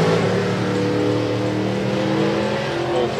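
A 634 cubic inch Chevelle drag car launches with a loud, deep, steady engine roar that holds without a break, close and alone.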